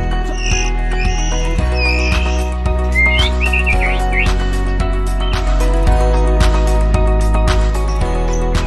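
A white-rumped shama sings a varied run of clear whistles and chirps, repeated in short phrases over a steady background hum.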